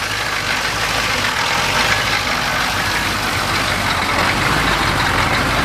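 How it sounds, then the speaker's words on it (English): A 1985 Chevrolet Blazer D10/M1009 diesel engine runs at a steady idle, a loud continuous rattling clatter with a dense low rumble and no pauses. "Sounds like a bag of ball bearings. That's a diesel for you."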